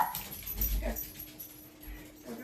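Pet dogs indoors bark, whimper and give short yips in brief bursts, fairly close and moderately loud, with no talking.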